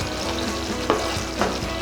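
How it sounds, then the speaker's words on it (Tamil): Chettinad-style paneer masala gravy thinned with water bubbles and sizzles steadily in the pan, with a few soft stirring knocks breaking through the continuous close-up simmer. "இது கொஞ்சம் கொதி வந்துச்சு."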